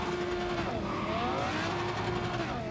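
Engine of a 740 VTEC car in the Cyberpunk 2077 game, revving and accelerating with a steady, loud, rising engine tone and some tire noise throughout, no talking.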